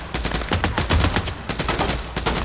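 Rapid automatic gunfire in the post-apocalyptic game Days Gone, loud, close bursts of evenly spaced shots with short pauses between volleys.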